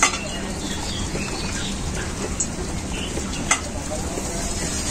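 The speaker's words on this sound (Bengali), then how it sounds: "এখন আমি পাঁপড়গুলো ভেজে" Papad frying in hot white oil in a wok, a steady close sizzle and crackle running throughout with a few brief pops, no talking.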